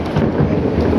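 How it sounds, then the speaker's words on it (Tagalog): Loud thunder rolls during a heavy rainstorm, a dense, continuous low rumble with rain hiss and wind buffeting the microphone, no voices. "lakas ng kulog"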